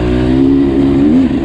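A Beta Xtrainer dirt bike engine revs loud and close, a steady throaty drone whose pitch wavers slightly before dipping at the end.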